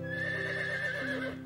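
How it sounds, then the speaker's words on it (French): A horse neighs in a French animated series, a clear drawn-out whinny with wavering pitch, close and prominent, with faint hoof clip-clop beneath. "C'est Prince, ton nouveau cheval."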